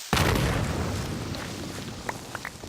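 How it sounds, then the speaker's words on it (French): A Minecraft creeper explodes in a video game, a sudden loud boom that fades over a couple of seconds, followed by a few faint clicks and pops. "donc les bruits aussi des creepers"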